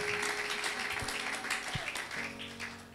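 A church congregation applauding, dense steady clapping from many hands in a reverberant hall, with faint sustained tones underneath.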